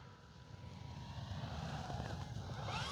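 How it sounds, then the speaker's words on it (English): An E-flite P-51D Mustang RC model plane, 1.2 m span, makes a full-speed low pass down a runway, its propeller and engine note swelling steadily louder as it approaches, with no talking. "we're gonna go right down the runway"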